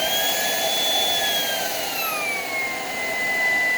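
A Shark PowerDetect vacuum cleaner runs in a kitchen, a steady close whir with a high whine that slowly drops in pitch as the machine moves across the floor.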